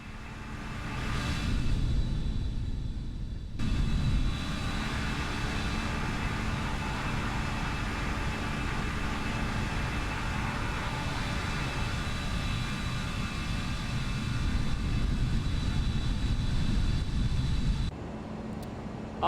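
Simulated Airbus A320 jet in the X-Plane 11 flight simulator, departing Palma de Mallorca, makes a loud, steady broadband engine roar that holds for most of the run and then drops off sharply near the end.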